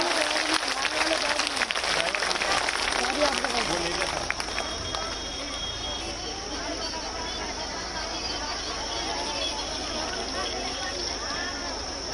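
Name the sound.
crowd applauding at a women's rally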